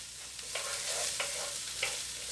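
Onions frying in a little oil in a Russell Hobbs all-in-one multi cooker, a steady soft sizzle with a few brief stirring scrapes at intervals, close and fairly quiet.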